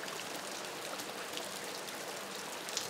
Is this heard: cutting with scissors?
no